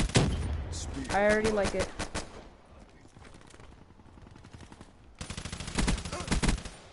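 An XMC gun fires in a video game. Rapid bursts of gunfire come near the start and again near the end, with a person talking briefly between them.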